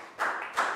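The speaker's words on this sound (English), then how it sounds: "a big round of applause for Pat" A few students clap briefly for a classmate in a classroom, two short bursts of hand claps, near and moderately loud, with no talk over them.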